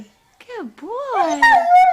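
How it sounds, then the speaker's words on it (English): A pet dog makes drawn-out, sliding howl-like vocalizations close by, rising and falling in pitch like an attempt at speech, with a person's voice mixed in near the end. "No, that's barking"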